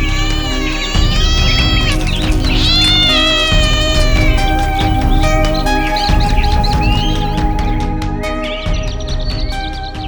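Loud, drawn-out cartoon cat meows and caterwauls from an animated Tamil children's story repeat over busy background music throughout, with no one speaking.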